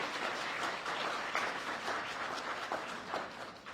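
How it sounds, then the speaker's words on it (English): A crowd applauds donors at a 2023 optometry scholarship presentation, a steady wash of many hands clapping from a distance at an even level throughout. "And a round of applause to the donors."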